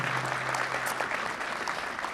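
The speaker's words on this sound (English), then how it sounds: "Give them all a round of applause." A crowd at a town inauguration ceremony applauds newly sworn-in officials, a brief burst of thick, continuous clapping at steady volume, with a low steady hum underneath at the start.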